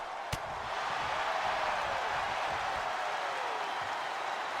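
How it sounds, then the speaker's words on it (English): Wrestling crowd in the WWE 2K25 video game, a steady broad roar of cheering and applause held at an even level throughout, with one sharp hit near the start. "You can hear the Resistance lovers in the crowd."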